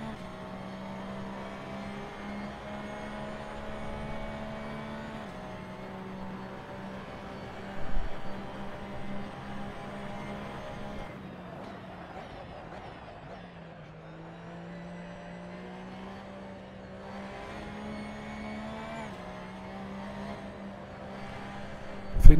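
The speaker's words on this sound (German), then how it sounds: "Jetzt schön Vollgas geben, den Scheitelpunkt hier gut treffen." Race car engine at full throttle in Assetto Corsa on the Barcelona circuit, a steady loud high-pitched drone with brief dips at gear shifts, continuous and close.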